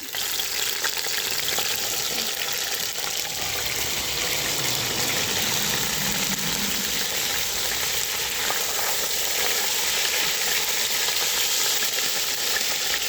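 Beef frying in hot oil in a pot for bœuf bourguignon, a loud dense continuous sizzle and hiss with a spoon stirring through it, close and steady with no talking.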